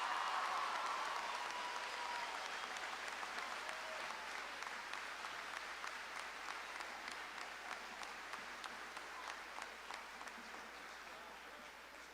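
An audience at a 2019 school promotion ceremony applauds the graduating class, a broad, sustained roll of many hands clapping with distinct nearer claps ticking through it, gradually fading toward the end.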